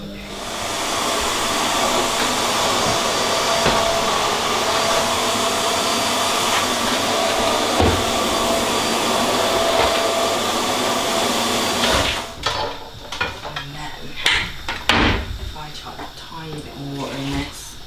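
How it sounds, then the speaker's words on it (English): A household vacuum cleaner runs loud and steady at close range for about twelve seconds, then cuts off, leaving clattering handling noises. "So now I will go and do my vacuum."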